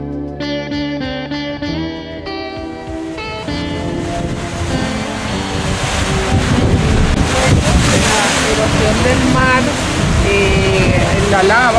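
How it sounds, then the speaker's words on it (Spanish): Sea waves break and churn against the lava coast of Lanzarote, a loud, continuous rushing wash that rises after a few seconds of music playing at the start. "donde rompe el mar"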